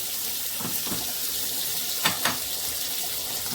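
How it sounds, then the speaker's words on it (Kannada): Tomato and onion heating in a pan for a Malabar spinach and bottle gourd sambar give a steady, soft sizzle throughout, with a couple of brief stirring knocks near the middle and no talking. "ಟೊಮೆಟೊ ಈರುಳ್ಳಿ ಸ್ವಲ್ಪ ಬಿಸಿ ಮಾಡ್ಕೊಳ್ತಾ ಇದ್ದೇನೆ ಬಸಳೆ ಸಾರಿಗೆ"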